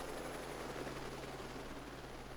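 Helicopters fly over a 9/11 memorial event in a roleplay video game, a steady broadband rotor and engine roar that holds constant and fairly loud throughout, with no talk.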